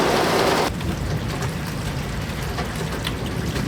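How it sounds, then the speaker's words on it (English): Steady rain from a thunderstorm pours down in a dense, continuous hiss, loud at first and then settling into a softer, even patter. "I'm in the middle of a thunderstorm."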